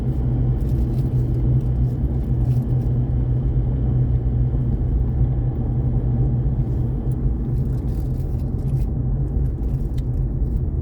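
Steady road noise from cars passing on a road near Mayon Volcano, a continuous low rumble of traffic going by at a moderate distance with no one speaking.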